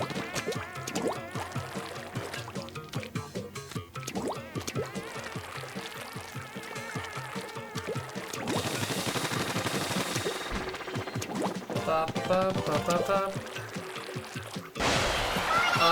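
Splatoon gameplay: a long run of liquid, swishing game sound effects as the character swims back through ink, with music, gunfire-like splats and bursts building toward the end.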